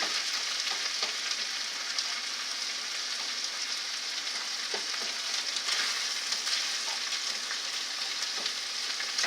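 Onions fry and brown in a pan with a steady, dense sizzle that holds evenly throughout, broken only by faint pops and crackles.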